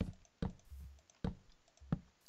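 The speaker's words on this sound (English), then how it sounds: "you probably already hear my mouse clicking and stuff with this mic" Close, sharp computer mouse clicks during a Minecraft session, three or four separate taps spaced roughly half a second apart with quiet gaps between them.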